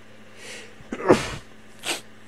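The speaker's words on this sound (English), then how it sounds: "Sorry, sneezed." A single close sneeze with a sharp burst of breath, preceded by a soft intake and followed by a short exhale, in an otherwise quiet room.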